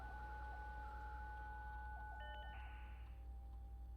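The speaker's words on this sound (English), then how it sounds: "Ugh, that dial tone." A telephone dial tone inside a video game's staff phone menu, two steady electronic tones humming quietly with a brief higher beep near the end, all very faint over a low background rumble.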